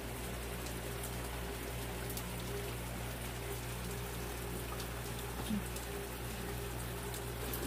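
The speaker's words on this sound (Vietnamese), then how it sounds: "Này mưa có các bác lại dạ, lại nghỉ thôi." Steady rain falls at a house construction site, a constant dense hiss of drops on surfaces with a low hum beneath, moderate and continuous throughout.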